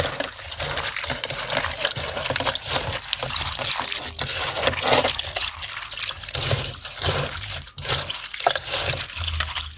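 Liquid from pounded field crabs is strained, a continuous wet trickling and dripping with occasional pouring splashes, close and fairly loud throughout.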